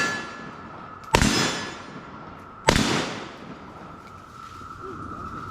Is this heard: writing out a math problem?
no